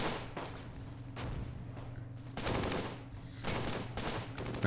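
Sustained infantry gunfire in the Close Combat wargame set in the Normandy campaign around Caen: dense overlapping rifle and machine-gun bursts rolling continuously, with heavier volleys swelling at intervals and no talk.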